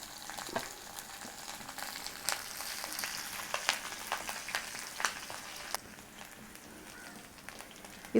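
Curry leaves, dried red chillies and finely chopped green chillies frying in oil in a pan, a steady crackling sizzle with sharper pops scattered through, continuous and fairly close.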